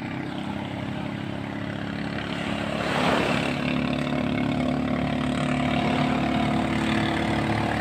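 A fishing boat's engine drones steadily and grows a bit louder partway through, its uneven hum from a misfiring engine.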